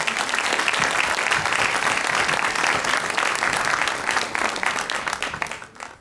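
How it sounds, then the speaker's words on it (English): A church audience gives a hearty round of applause to a choir and its piano accompanist at a Christmas carol program. Dense, loud clapping holds steady, then gradually thins and fades out in the final seconds. "Can we give them a round of applause, please?"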